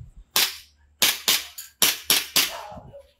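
Airsoft gun firing six sharp, loud shots in an irregular rhythm, some in quick pairs, close by, with a brief voice at the very start and end.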